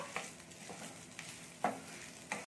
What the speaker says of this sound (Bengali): এটা একটু লম্বা করে বারিক করে সরু করে কেটে নিয়েছি, এটাও একটু ভেজে নেবো।